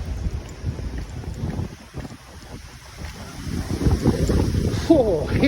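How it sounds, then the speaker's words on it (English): Strong wind in a cold winter blizzard roars and buffets against the microphone outdoors, gusting louder toward the end, with a voice faintly present beneath it. "Oh, hear that wind."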